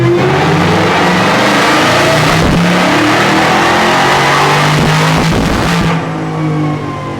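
A Whipple-supercharged Redeye Charger engine (Hemi V8, about 1300 hp) roars through a dyno pull at Livernois Motorsports, loud and sustained, pitch climbing steadily with supercharger whine before cutting off abruptly near the end.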